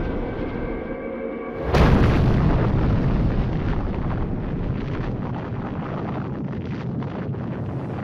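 A nuclear bomb detonation: a sudden deep blast breaks in after a steady tone, then becomes a long, loud, roaring rumble that holds with little change and no voices.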